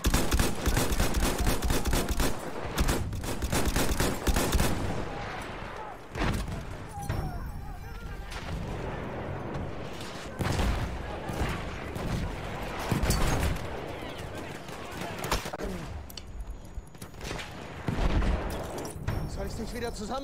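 Rapid bursts of video game gunfire crackle through a dense, loud mix of game sounds, with repeated shots spread across the stretch and a player talking over the action.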